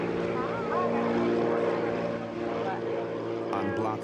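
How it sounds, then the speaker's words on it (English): A chartered propeller plane flies in over Block Island, its engine drone steady and fairly loud throughout, with a narrator speaking over it. "A specially chartered plane flies in the forgotten cake minutes before the bride and groom arrive for their first dance."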